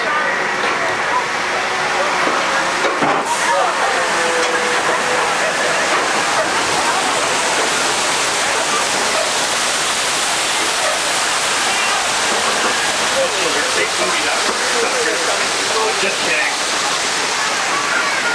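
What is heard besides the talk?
water rushing effect on Universal Studios tram tour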